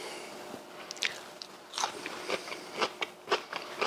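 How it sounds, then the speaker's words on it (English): Cucumber pushed through a flat slicer blade while a chef-style salad is made, giving a run of crisp, close crunching slices at irregular intervals that grow more frequent and louder toward the end. "Again, using the flat slicer. Flat sliced cucumber."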